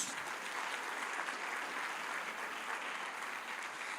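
Church congregation applauding together during a Spanish-language worship service, a steady, even wash of many hands clapping at moderate distance with no talk over it.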